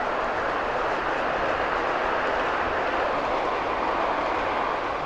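Model locomotive hauling rolling stock along a track at an outdoor model show, a steady, loud, continuous rumble and rush of running that holds evenly from start to end.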